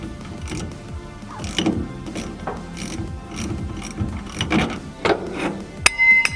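A ratchet clicks in quick bursts while tightening a coilover mount on a 1969 Ford Mustang, with close, repeated pawl clicks, occasional metallic knocks and one sharp clank near the end.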